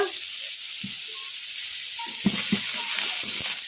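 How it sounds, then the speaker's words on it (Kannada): Ridge gourd pieces fry in a pan over a medium flame with a continuous soft hiss, plus a few low stirring scrapes and small bubbling pops close by, with no talking. "ಮೀಡಿಯಮ್ ಫ್ಲೇಮಲ್ಲಿ ಫ್ರೈ ಮಾಡ್ಕೊಂಬಿಡೋಣ ಹೀರೆಕಾಯಿ ಸ್ವಲ್ಪ ಮೆತ್ತಗಾಗೋವರೆಗೂ ಫ್ರೈ ಮಾಡ್ಕೊಂಬಿಡೋಣ"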